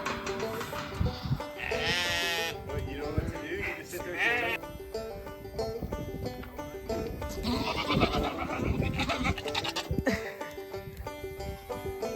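Sheep bleating in a farm pen, several wavering calls repeated over about twelve seconds, close and loud over rustling and general barnyard noise.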